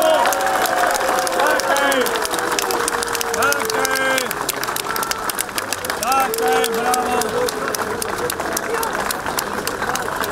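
A protest crowd gathered for a resistance rally applauds police officers, sustained loud clapping mixed with cheers and crowd voices throughout.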